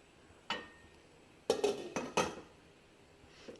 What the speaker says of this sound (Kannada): ಸೊ ಇವಾಗ ನಾವು ನಮ್ಮ ಮೋಲ್ಡ್ನ ಪ್ಲೇಸ್ ಮಾಡೋಣ.